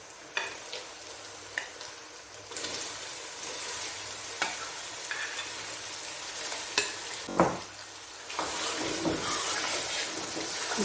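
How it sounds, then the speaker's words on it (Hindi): Chickpeas (chole) tumble into a pan of frying masala for Lahori-style cholay, a fairly soft sizzle with scattered knocks and scrapes as the spoon stirs, building louder toward the end, no talking. "तो अब मैं डालूंगी इसमें छोले,"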